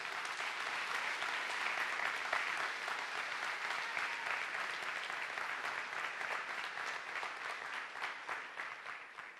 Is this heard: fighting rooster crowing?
no